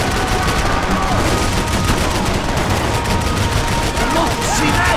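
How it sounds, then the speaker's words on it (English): Dense, continuous gunfire and whizzing bullets from the video game Max Payne 3, a loud, unbroken barrage of overlapping shots across the whole stretch with faint voices buried underneath. "I can't concentrate with bullets whizzing past my head"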